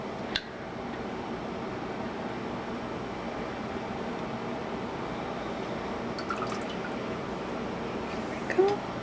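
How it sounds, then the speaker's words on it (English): Lye water poured into oils for a cold process soap makes a faint, steady liquid trickle against a low room hum, with a few soft drips and clinks near the end. "add the lye water to the oils"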